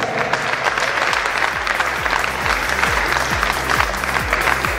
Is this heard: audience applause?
yes